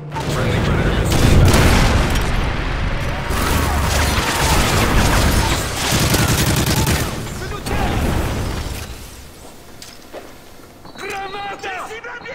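Predator missile strikes in a military shooter video game, heard as loud continuous booming and blast rumble across most of the stretch, thinning toward the end where lighter mechanical clatter and scattered effects remain.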